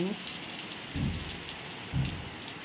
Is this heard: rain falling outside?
yes